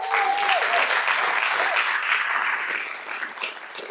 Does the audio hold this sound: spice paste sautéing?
no